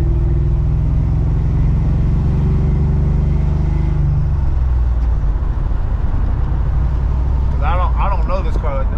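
Engine of an unfamiliar car driven on a road, low rumble rising and falling with bursts of acceleration, up close from inside the cabin, with a voice speaking over it near the end.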